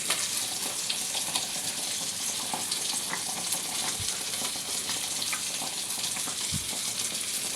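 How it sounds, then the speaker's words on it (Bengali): Fish pieces frying in a cooked-down spice paste, a fairly quiet, even sizzle and hiss with occasional faint bubbling taps, heard close and without speech. "মশলাটা কষিয়ে নিয়ে সব মাছগুলো দিয়ে দিলাম"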